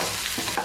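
Mustard seeds dropped into hot coconut oil for a tempering on a koorkka curry, a short burst of soft crackling and spluttering, fairly quiet and close.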